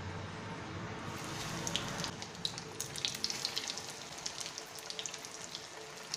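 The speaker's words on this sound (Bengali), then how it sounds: "দেখো আমি এটা এবার ভাজছি।" Green peas chops frying in hot oil, a steady close sizzle with scattered crackles and pops that grow busier partway through.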